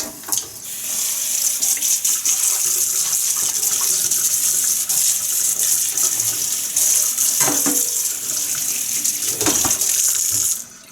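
Vintage GE Vortalex fan parts are rinsed under a tap, a steady loud gush of running water close by that continues for about ten seconds before cutting off, with no talking.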